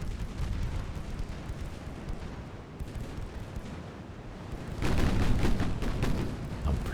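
Naval gunfire during an Ultimate Admiral Dreadnoughts battle: a dense rumbling stream of distant shell blasts and booms, swelling louder toward the end.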